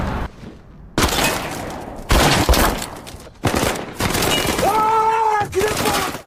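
Pistol gunfire in a gangster film scene comes as several sharp, loud bursts with shattering and crashing between them. The shots are close, and a brief tonal sound follows near the end.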